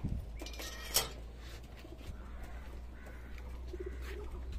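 Pigeons in a home loft give soft, low coos, with a sharp rustle or flap near the start and quiet bird chatter continuing in the background.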